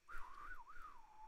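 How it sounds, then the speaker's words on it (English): A person whistles a short, wavering melody up close, one continuous tone that slides up and down for about a second, with no talking. "I'm trying to whistle."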